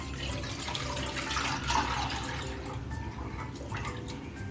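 One litre of milk pours into a non-stick pan, a faint, continuous gurgling splash of liquid with no talk over it.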